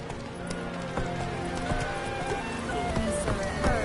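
Roach, a horse in The Witcher 3, gallops with a steady, rapid clip-clop of hooves that runs the whole time over a constant background of game music.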